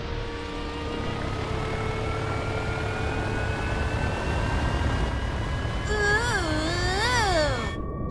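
Jet aircraft flyover at a cartoon soccer stadium: a steady engine roar with rising and falling whines that swell toward the end, loud and continuous, with no talking.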